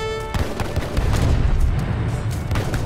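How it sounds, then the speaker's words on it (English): Artillery blasts and booming explosions from the real-time strategy game Age of Empires 3 during a cave mission: a sharp opening crack followed by a sustained, loud rumbling barrage with scattered impacts. "Sir, one of the explosions has revealed another passage."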